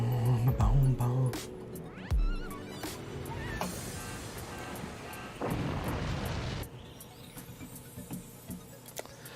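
Cannon fire in the Forts video game, several booming blasts and crashing impacts with rumbling debris, irregular and mid-loud, with game noise between shots.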